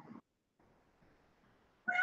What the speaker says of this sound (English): And a kitty cat that wants to talk about it.